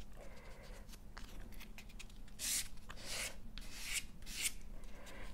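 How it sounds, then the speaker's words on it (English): Coarse sandpaper rubbed over balsa wood in a few short scraping strokes, close and fairly loud over a steady low background hum. "So we'll just give it a bit of a light on the coarse sandpaper."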